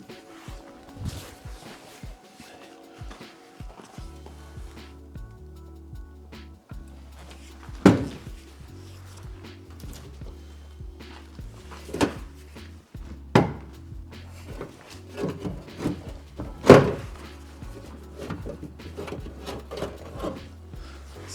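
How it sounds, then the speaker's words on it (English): A Tatra 815 truck's interior panel is worked loose and slid out. Soft knocks, scrapes and a few sharp clacks sound close by over a low, steady hum. "So I open the door first, and then this panel"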